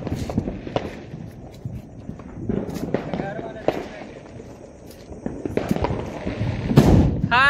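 A Devil bomb firecracker bursts during Diwali celebrations with friends outdoors, one loud, sharp bang near the end after scattered smaller pops, footsteps and excited voices of people talking nearby.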